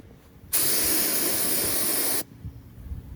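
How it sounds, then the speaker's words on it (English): A single steady hiss of spray primer on a Harley repair, laid down in one light coat over feathered-out areas, close and loud for under two seconds, then cutting off sharply. "so all I'm doing here is just putting light coats, a primer"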